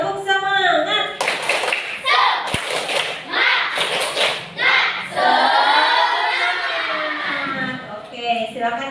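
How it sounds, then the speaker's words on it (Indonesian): Children in a classroom perform a rhythmic spirit clap, quick bursts of clapping in patterned groups mixed with chanting young voices and an occasional thump, loud and close. "Tepuk semangat."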